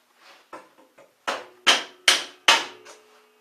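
A hammer knocks ice off something in a series of about eight sharp strikes, starting light and growing louder and closer, each with a short ringing decay.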